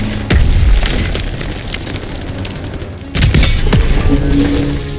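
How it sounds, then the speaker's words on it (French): Panzerschreck rocket blasts during a Call of Duty WWII battle, two loud booming explosions about three seconds apart, each followed by a long rumbling roar that fills the clip. "Un Panzerschreck nous tire dessus!"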